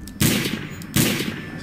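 Gunfire in a tactical shooter video game, with two loud close bursts about three-quarters of a second apart, each a sharp crack followed by a ringing decay.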